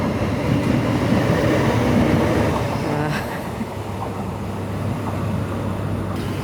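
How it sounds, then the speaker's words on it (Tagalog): Train rolling past at fairly close range, a loud sustained rumble with faint rhythmic clatter that holds steady throughout, recorded outdoors near a building. "At may train na naman."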